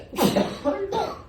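A sneeze from someone in a classroom, close and sharp: a forceful burst followed by a second shorter expulsion, heard alone against a quiet room.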